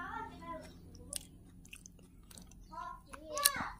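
Dried dates bitten and chewed close to the mic, soft crunchy bites and wet mastication with a sharp bite near the end, while someone talks between mouthfuls.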